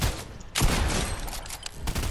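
Shotgun blasts in Fortnite, a loud heavy shot with a sustained roar and a second burst near the end, alone without talk.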